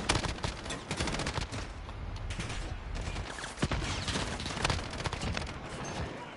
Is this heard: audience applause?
no